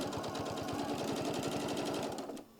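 A sewing machine stitches a drawstring bag in a rapid, even run of stitches, then stops abruptly near the end, close and clear with nobody talking.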